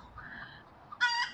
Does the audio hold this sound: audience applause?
no